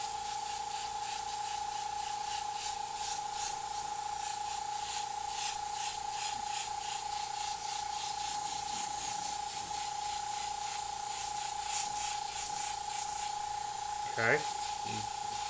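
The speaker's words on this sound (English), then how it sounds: "I'm just taking care of that outer overspray with this orange yellow." Airbrush spraying orange yellow paint over fire and skull artwork, a steady close hiss of compressed air with a pulsing compressor thump and a constant hum underneath; someone speaks briefly near the end.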